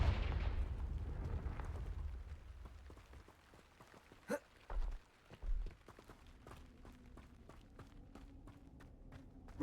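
Confringo spell blast in Hogwarts Legacy: a booming explosion rolls off at the start, followed by scattered thuds, short bursts and crackling debris ticks, fairly loud, with no talk.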